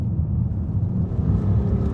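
An Audi RSQ8 SUV cruising at 47 mph, heard from inside as the driver floors it, gives a steady deep engine rumble with road noise that holds loud and close, swelling slightly toward the end.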